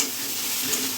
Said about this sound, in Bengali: এবার এটাকে ভালো করে নাড়িয়ে নিতে হবে।